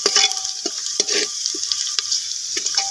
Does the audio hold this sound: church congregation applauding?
no